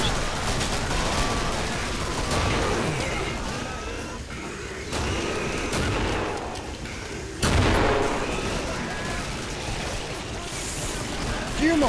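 Continuous heavy gunfire from the co-op shooter Killing Floor crackles throughout, with dense overlapping shots and occasional louder bursts, while players talk over the noise.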